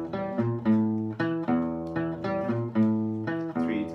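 Low, plucked electric guitar notes ring out in a repeating intro riff, open sixth string anchoring short fretted phrases, steady and clear with no voices.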